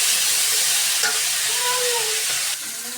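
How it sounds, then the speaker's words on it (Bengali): Flat beans and green chilies stir-frying in hot oil with turmeric give a steady, dense sizzle up close, with scraping stirs mixed in and a slight drop in loudness near the end. "সিম ভাজার মধ্যে দিয়ে দেবো কটা কাঁচামরিচ,"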